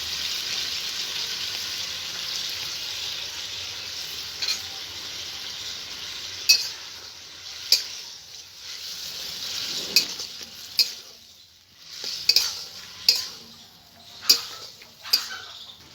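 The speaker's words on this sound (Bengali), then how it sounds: "পোস্ত বাটাটা দিয়ে আমি কিছুক্ষণ ফুটিয়ে নেব" Poppy seed paste and ridge gourd simmer in a pan with a soft, steady hiss, broken in the second half by a series of sharp spatula clicks and scrapes against the pan, close up and without talk.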